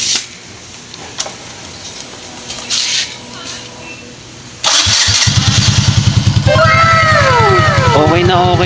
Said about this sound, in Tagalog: Subukan naman natin ikasa yung stock exhaust para ma-sound check natin.